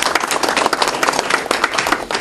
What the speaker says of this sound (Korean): 환영 박수 보내주십시오.